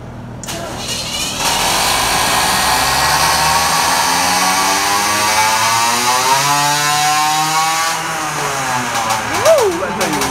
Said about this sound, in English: That's a OZ Reed 50mm sleeved engine